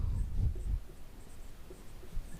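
Writing on a board during a class 11 chemistry lesson: close, scratchy strokes, heavier at first and then lighter and more intermittent, with no speech.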